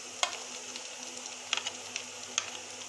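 Garlic paste frying in a pan for a dhaba-style paneer masala, giving a steady, fairly quiet sizzle with a few sharper crackles and spatters scattered through it.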